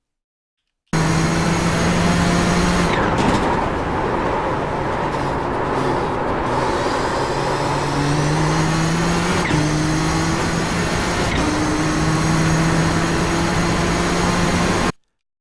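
Simulated Nissan GTP ZX-T race car engine lapping Watkins Glen in iRacing, a loud sustained roar rising in pitch through the gears with sharp upshift breaks, steady and close with no voices.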